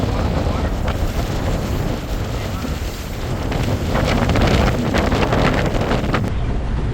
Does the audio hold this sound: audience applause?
no